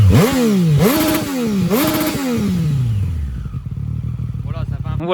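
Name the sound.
Triumph Street Triple RS 2020 motorcycle engine with exhaust baffle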